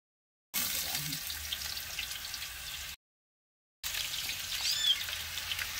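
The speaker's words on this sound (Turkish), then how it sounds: "odun ateşinde kahvaltıya patates kızartıyor" Potatoes sizzle in oil over a wood fire for breakfast outdoors, a close, steady crackling fry heard in two stretches split by a brief gap of silence, with no talking.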